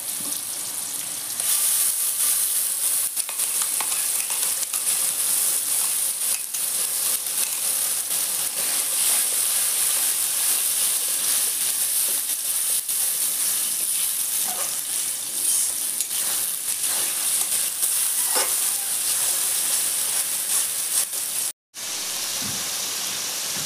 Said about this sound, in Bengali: আদা রসুন কিছুক্ষণ ভেজে নিচ্ছি, এখন দিয়ে দিচ্ছি পেঁয়াজ বাটা।